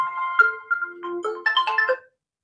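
A mobile phone ringtone goes off during a Class 10 maths lesson, a bright electronic melody of clear stepped tones playing for about two seconds before stopping abruptly.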